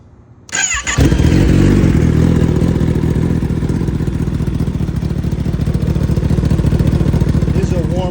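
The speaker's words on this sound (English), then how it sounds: "Let's turn this baby on." A 2025 Kawasaki ZX10R fitted with an M4 GP19 slip-on exhaust cranks and fires into a warm start, settling into a loud, close, burbling idle.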